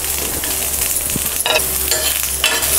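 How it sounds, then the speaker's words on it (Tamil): Chopped onions fry in about a tablespoon of oil in a pan for a Tamil chutney, a steady close sizzle with occasional scraping stirs and no talk. "வெங்காயம் கொஞ்சம் வதங்கட்டும்"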